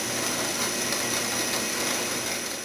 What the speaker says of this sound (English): I'll put a smaller diameter bit in here for the size of the screw shank and drill on all the way through